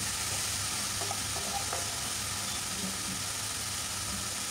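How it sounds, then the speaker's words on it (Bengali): Vegetable bhaji fries in oil in a pan with a steady, close sizzle throughout, broken by a few faint clinks and scrapes of stirring. "এই তো ভাজিটা করে নিচ্ছি।"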